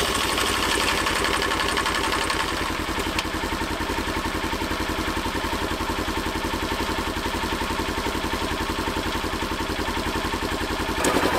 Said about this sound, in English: let me turn on the key and run it for a little bit